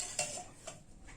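A metal spoon clinks against a bowl while sugar and ghee are mixed for panjiri prasad, giving a few light, close taps over a quiet background.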